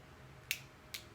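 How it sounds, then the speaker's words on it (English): A pair of new scissors snips twice, two crisp, sharp clicks about half a second apart, close and fairly quiet over a low, soft background hum. "I bought some new scissors so I can get into it."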